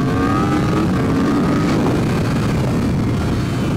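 Superbike engine droning steadily and loud at close range as it leaves the Snetterton 300 circuit pit lane exit, a continuous rising mechanical roar with no pauses and no talk.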